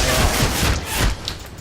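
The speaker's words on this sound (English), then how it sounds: "Oh, flamethrower turret." Flamethrower turret blasting in DC Universe Online, a dense, roaring broadband rush of fire with rhythmic low thumps pulsing roughly every third of a second, loud and close for the whole stretch.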